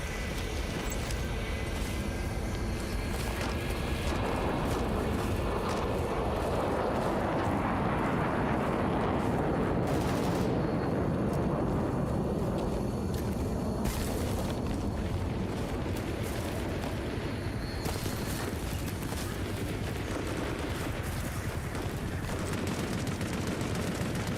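Sustained LMG machine-gun fire in the Vietnam-era shooter Hell Let Loose, with dense, loud bursts running almost without pause, mixed with distant explosions and a roaring battlefield background.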